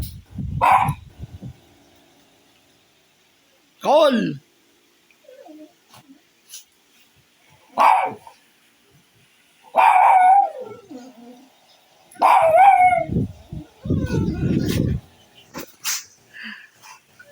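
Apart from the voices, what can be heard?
dogs howling and barking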